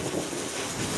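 Wind gusting around a DJI Mavic Pro drone hovering about 13 meters up, a steady broad rushing roar with low buffeting, loud and continuous for a brief moment, with no talk.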